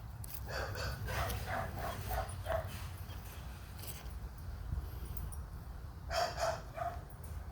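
Several dogs bark in bursts outside at the neighbours' place, moderately distant, with a steady background hum between the volleys.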